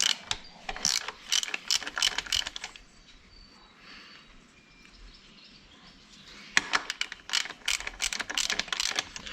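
A ratchet clicks rapidly while loosening a bolt on an Opel Combo gearbox, two close bursts of crisp ratcheting separated by a quieter pause of a few seconds.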